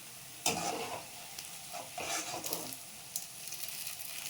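Ripe banana bajji fritters fry in oil, a fairly quiet continuous sizzle broken by a few brief scraping clatters from a utensil.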